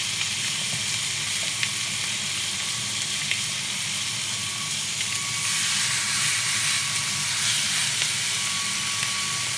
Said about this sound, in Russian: и жарим 2 минуты с одной стороны